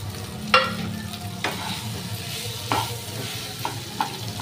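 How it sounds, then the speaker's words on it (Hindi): Boiled potatoes are stirred into onions frying with turmeric and Kashmiri red chili powder to make a kachori stuffing. A spoon scrapes and taps the pan now and then over a steady close sizzle. "इसमें अब उबला हुआ हम आलू डाल देंगे।"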